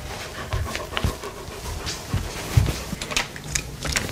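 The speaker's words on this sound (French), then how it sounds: "Bon chien, bon chien." A dog pants rapidly and close by, quick breathy huffs in steady rhythm with some soft snuffling and small knocks, no talking.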